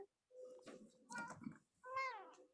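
A ginger cat meows a few times in short, drawn-out calls, quiet and fairly close, with brief pauses between them.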